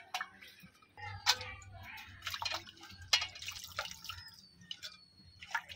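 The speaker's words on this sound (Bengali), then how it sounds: "এখন উস্তাগুলো আমি ভালোভাবে ধুয়ে নেব" Bitter gourds being washed with water in a home kitchen, quiet splashes and drips with clinks of handling, soft and close, no talking.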